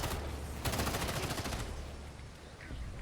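Gunfire in the Gotham Knights video game, a steady dense barrage of rapid shots over a loud continuous rumble, close and sustained for a few seconds.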